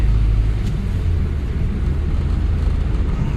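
A Nissan NV van drives and accelerates, its engine a steady low rumble with road noise throughout, close and fairly loud, with no voices.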